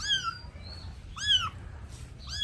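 A cat meows three times in short, rising-falling calls, close and clear over a low background rumble.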